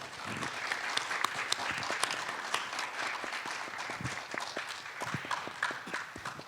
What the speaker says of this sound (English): we should thank all panelists with a warm round of applause